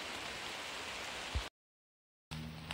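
Steady rain pours down outdoors during a riverside fishing trip, a dense even hiss that cuts out into a short silence and then resumes, with no talking.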